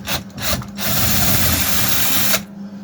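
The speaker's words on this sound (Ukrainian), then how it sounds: "тепер нам треба викручувати всі гвинти" A power tool whirs while unscrewing screws from a PRO CRAFT GS-450 petrol chainsaw: two short bursts, then one sustained steady run that stops abruptly, close and loud with no speech.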